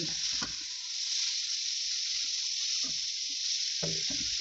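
Bitter gourd with black pepper and salt fries in a pan under a loud, steady high sizzle, with a few soft stirring knocks spaced apart.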